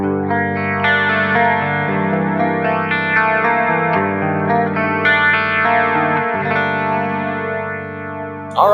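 Music Man Kaizen 6 electric guitar on a super clean amp channel with the bridge pickup, strummed chords and picked notes ringing with chorus-like shimmer and echo, loud and continuous with no talking.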